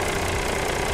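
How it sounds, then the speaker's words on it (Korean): Steady, even idle of a Mercedes-Benz CLS350 d 4MATIC diesel engine, heard up close at the open engine bay as a constant mid-pitched hum with no variation. "엔진 소리 일정하네요."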